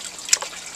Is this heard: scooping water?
yes